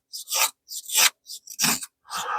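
An Ozark Trail knife shaves curls from a dry piece of pine, making five short, raspy scraping strokes with brief gaps between them. The strokes are close and fairly loud, with no speech.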